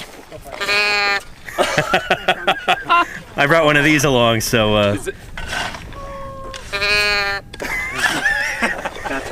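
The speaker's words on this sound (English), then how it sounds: "this is called a moo box. Normally it has a cow on it, but you know, I put a Gastonia on there instead." A moo box toy topped with a Gastonia dinosaur figure gives several drawn-out, bleating moo calls, each with a wavering pitch. Someone talks between and over the calls.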